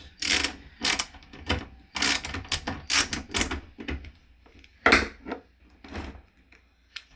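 A screwdriver driving Torx screws into a desktop PC case during a power supply and SSD upgrade: repeated close ratcheting clicks and scraping metal turns in uneven bursts, fairly loud, with no talking.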